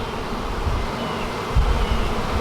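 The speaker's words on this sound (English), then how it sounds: "Wow, that's a lot of bees." A dense swarm of bees hums steadily in a yucca tree, a close, continuous buzzing drone with occasional louder passes of individual insects near the microphone.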